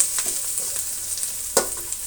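Ginger-garlic paste frying in a pan: a bright, continuous hiss with light stirring scrapes and one louder clatter midway, heard up close and alone.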